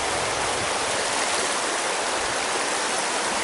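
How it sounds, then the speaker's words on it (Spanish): Fast-flowing river rushing steadily with dense, broadband hiss and churn, loud and close, unbroken throughout with no voices. "está rápido el río ahí"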